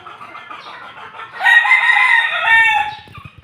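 Backyard chickens cluck softly, then a rooster crows loud and close with a long, strained call that trails off at the end.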